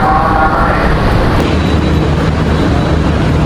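The Ranggajati economy passenger train, a new luxury-class rake, rolls along the rails near Klaten with a loud, steady rumble and rushing noise heard from on board, continuous throughout.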